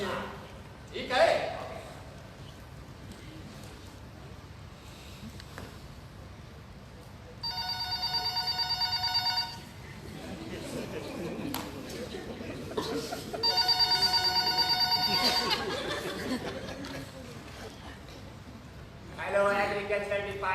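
A telephone call placed to an agriculture department in an Urdu stage drama: a short tone, then two long bursts of ringing tone separated by pauses, with another ring starting near the end, voices murmuring quietly in between.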